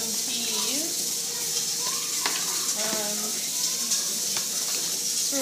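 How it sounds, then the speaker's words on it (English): Steady, loud sizzling of chicken frying in a hot pan, a continuous crackling hiss with faint voices murmuring underneath. "so we're gonna cook brown the chicken"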